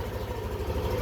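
Yamaha Aerox 155 scooter engine idling quietly while parked on a metal stand, a steady low rumble that holds evenly throughout without revving.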